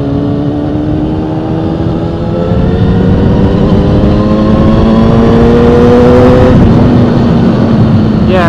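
Close, loud revving of a 2004 Kawasaki 636 sport bike engine climbing steadily to high RPM, the pitch rising and swelling sharply near the top with wind roar, no talk.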